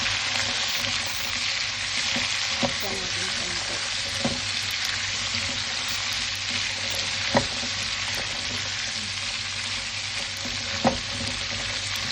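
Browned meat frying in a pan with pumpkin and long beans, a steady dense sizzle that carries throughout, broken by a few sharp clicks and knocks of utensils, close and loud, with no talking.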